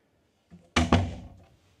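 A door on a De Alm Grand Voyager 65 boat gives a soft knock followed by a firmer double thunk close by, then quiet.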